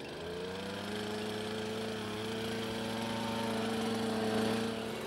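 Gasoline-powered, water-cooled diamond drill running outdoors in the rain, a loud steady engine drone with a constant hum that rises slightly toward the end.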